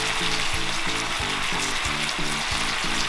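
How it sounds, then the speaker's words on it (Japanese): Miso-marinated pork sears in a hot frying pan, giving a steady close sizzle throughout, with a faint repeating low hum beneath it. "漬け込んだ味噌もちゃんとじっくり炒めてこの肉に吸わせる。"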